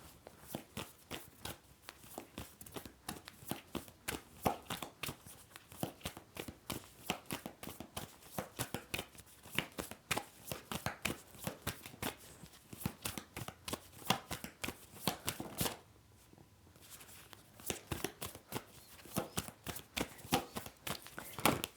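Tarot cards are shuffled close up, making dense rapid riffling and clicking with a short pause partway through, then more shuffling.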